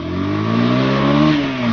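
A new motorcycle accelerates hard in first gear, its engine note rising steadily in a loud, close, unbroken rev lasting under two seconds.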